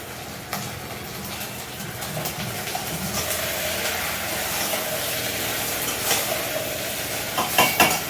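Food frying in a home kitchen pan as a simple tamarind-stew dish gets started, a steady close sizzle with a few clinks of a utensil stirring near the end.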